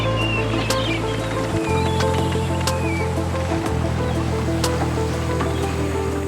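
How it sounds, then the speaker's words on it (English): A boat moves through open water in an Arctic fjord off Svalbard, with a steady low engine hum, a couple of brief shifts in tone and soft water rustle throughout. "we glide smoothly along a wide avenue of free-flowing water"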